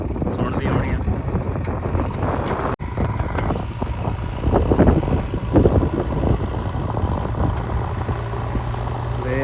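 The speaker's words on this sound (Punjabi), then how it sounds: "ਫੋਨ ਦੇ ਵਿੱਚ ਹਵਾ ਦੀ ਆਵਾਜ਼" Heavy wind buffets a phone microphone in rumbling gusts, with a steady hum and faint voices underneath, outdoors on farmland.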